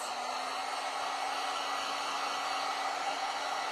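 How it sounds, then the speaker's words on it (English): A heat gun runs steadily with a continuous airy whir and a constant tone, moderately quiet and unbroken, used on thrifted furniture being painted; no talking. "So I'm going to have to use the heat gun again on this."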